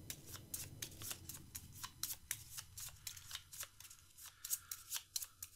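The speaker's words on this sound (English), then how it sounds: "So let's shuffle everybody together." A pile of Magic: The Gathering cards shuffled by hand, a rapid string of crisp riffling snaps and slides, close and fairly quiet, with no talk.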